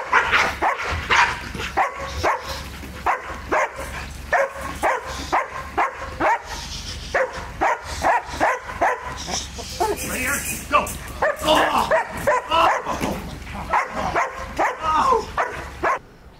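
Dogs bark in rapid repeated bursts during protection dog training, loud and close with sharp rhythmic yaps and occasional whines, while people talk over the barking throughout.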